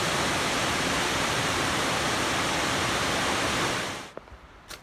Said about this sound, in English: This is Laurel Fork Waterfall. This is the biggest one I've seen,